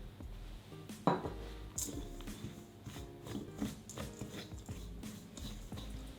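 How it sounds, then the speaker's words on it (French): A spoon or whisk clinks and scrapes against a bowl while mixing icing sugar, cornstarch and pistachio paste, faint, close, irregular knocks and scrapes with no talk. "je vais mélanger tout ça pour obtenir une préparation homogène"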